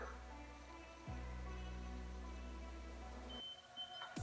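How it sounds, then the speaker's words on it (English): A stud finder's steady electronic tone drones, then cuts off and a brief high beep sounds near the end, close and clear with no talking. "And then when it beeps, that's supposed to be the edge of the stud."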